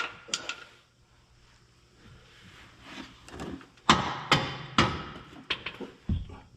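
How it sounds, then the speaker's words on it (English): A rubber mallet striking metal parts during trailer repair, a series of sharp, close knocks, sparse at first and then in a quicker run of solid blows, with no talking. "Rubber mallet."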